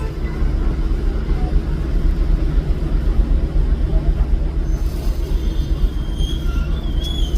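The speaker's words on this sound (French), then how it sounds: "Le train s'en vient par là, je le vois." A heavy passenger train rumbles steadily nearby in Hué, Vietnam, with rolling wheel noise and a faint high squeal of wheels on the rails toward the end.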